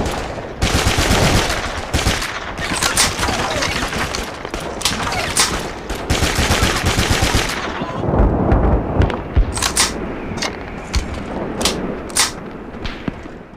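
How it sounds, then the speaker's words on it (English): An MG42 machine gun fires in the video game Call of Duty 2: Big Red One, with loud rapid bursts rattling almost without pause, overlapping gunfire and heavy booms, and sharper separate shots near the end. "MG42 Truppe 2005, Call of Duty 2,"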